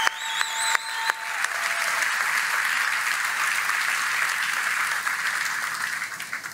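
Audience applause for Kentucky workers at a Ford event, a steady wash of clapping that swells after a second and holds at full strength throughout, with faint tonal sounds near the start.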